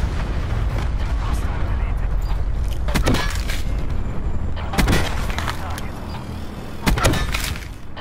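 A C4 blast in Black Ops 4 multiplayer rings out among several sharp, loud bangs and gunshots over a steady rumbling background.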